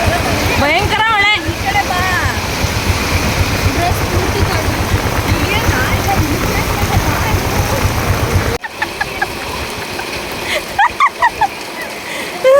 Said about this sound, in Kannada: ಭಯಂಕರ ಮಳೆ.